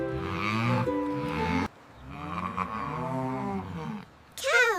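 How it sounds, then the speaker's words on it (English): A cartoon cow moos in a farm barn, two long drawn-out lowing calls separated by a brief pause, loud and close, followed by a short burst of other sound. "Cow!"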